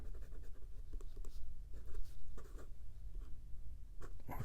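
A steel calligraphy nib on a fountain pen scratches across paper with diamine oxblood ink, drawing thin strokes in soft, close, intermittent scrapes with faint background hum.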